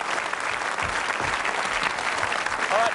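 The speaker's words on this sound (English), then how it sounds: "Let's give him a nice round of applause." A game show studio audience applauds, dense and even clapping at close range for about three seconds with no pauses, and only faint traces of voices beneath it.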